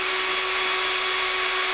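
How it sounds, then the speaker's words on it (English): A power drill running flat out at full speed, giving a steady, loud, unbroken whine that holds one pitch throughout with no talking. "you want to take a drill which is rated in that range, and then you run it full out"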